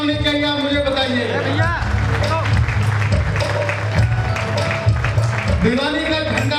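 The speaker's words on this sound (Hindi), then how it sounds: "डॉक्टर दलीप सिंह जी के लिए कैसी तालियां होनी चाहिए आप मुझे बताइए।" Audience applause for Dr. Dalip Singh at the Bhiwani Gaurav Samman 2023 award ceremony, a dense, sustained wash of clapping and crowd noise with a voice speaking loudly over it throughout.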